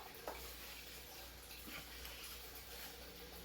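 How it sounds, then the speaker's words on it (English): A spatula stirs dry ingredients and salt together in a bowl for banana taffy, giving a steady, soft scraping and rustling texture that runs continuously throughout, fairly quiet, with no speech. "I use a spatula to mix it."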